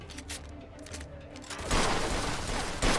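Pistol shots in the Mafia video game: several sharp single cracks spaced irregularly over a noisy game backdrop, growing louder in the second half.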